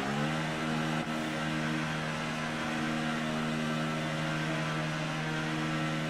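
An F1 2018 racing-game car sitting on the pit-lane speed limiter at pit exit, giving a steady buzzing engine drone at a constant pitch with a brief dip near the start; no voices.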